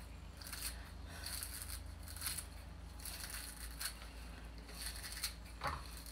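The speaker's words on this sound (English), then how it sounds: "So now you just use scissors." Repeated close snips and crunchy cuts of scissors cutting garnish at a camping stove, irregular and fairly quiet, over a low steady background hum.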